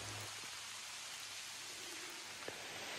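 Rain falls steadily during a forest hike in Marion County, West Virginia, a soft, even hiss of drops on leaves and ground that stays faint and constant throughout, with no voices.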